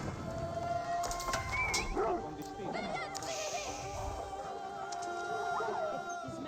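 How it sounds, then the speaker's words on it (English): A wolf yelps and whimpers as it is killed in Age of Empires 4, several short dog-like cries and whines over a busy battle soundscape, with a commentator talking. "Wolf will go on down."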